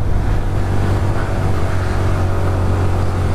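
A Honda Biz 125 motorcycle, still inside its first 500 km break-in, accelerating: a steady, loud engine drone with a strong low hum held evenly throughout, close by.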